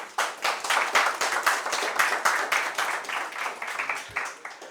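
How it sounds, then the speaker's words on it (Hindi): Classroom audience claps for candidates selected as Delhi Police sub-inspectors, a roughly rhythmic run of loud, close, sharp claps that stays steady for several seconds. "इनके लिए तालियां बजाओ।"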